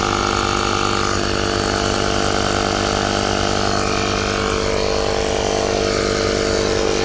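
A portable tire inflator pumps air into an underinflated tire that had dropped below 10 PSI, its motor a loud, steady buzzing drone that runs unbroken from start to finish with no talking.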